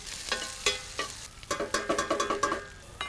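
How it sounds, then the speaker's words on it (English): Onions sautéing lightly in a pan for a Mangalorean pulimunchi, with a soft steady sizzle broken by several distinct clinks and scrapes of stirring, close by, with no one speaking. "we're just going to saute the onions lightly until they are soft and very lightly colored"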